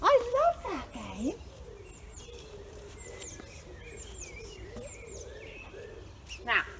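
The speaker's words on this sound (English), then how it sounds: "music, birds singing" Birds sing and chirp throughout in short repeated calls and tweets, moderately near, with a few louder whistled phrases at the start and end and faint background hiss.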